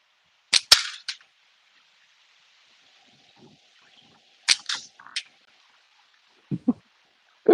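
Slingshot shots smack into a backyard target in sharp isolated cracks, a pair, then a cluster, then a final few, separated by quiet stretches with faint wind.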